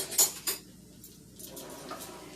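A big spoon mixing creamy cookie dough for Italian seed cookies in a bowl, with a few sharp clinks of metal against the bowl at the start and soft scraping afterward, close and fairly quiet.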